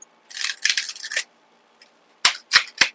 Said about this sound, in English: All right, let's get a good shuffle.